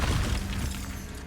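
Fiery Incendio spell cast in a Harry Potter video game, a loud, steady low-heavy whoosh and rumble of flame lasting just over a second, close and full, with no talking.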